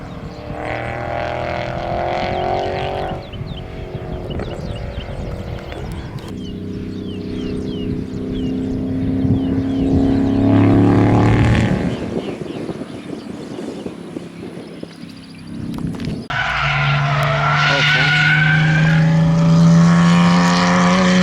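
A drift car, either a stock 5.0 Mustang or a Mazdaspeed-swapped Miata, cruises around with its engine revving and droning, rising and falling in pitch as it passes, loud and fairly close, with wind buffeting.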